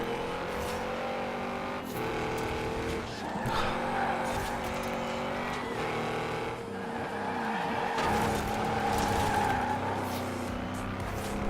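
Race car in Forza Horizon 4 drifting around Fortune Island, engine revving and rising while tires squeal in long bursts, loud and close, with the pitch rising and falling over several passes.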